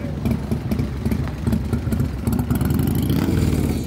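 Motorcycle engines idle and rev at a motorcycle rally, a loud, continuous rumbling clatter with uneven throttle surges close by throughout.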